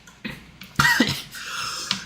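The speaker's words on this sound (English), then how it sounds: "I've still got a cough all these weeks later." A few sharp coughs close to the mic, one harsh burst followed by smaller rasping coughs and a final short cough.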